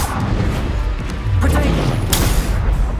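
Spell casting during a Hogwarts Legacy battle, with booming impacts and a sharp crack near the end over a continuous rumble of combat noise.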